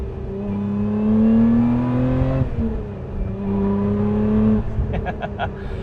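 A supercharged 3.5-litre V6 Lotus Emira with an aftermarket exhaust, valves open, revs up and down with a deep, throaty exhaust note, rising twice, with some brief crackles toward the end.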